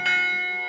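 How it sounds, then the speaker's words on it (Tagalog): A single church bell strike rings out, its bright metallic tone hanging and slowly decaying. "ang mga kampana ng simbahan"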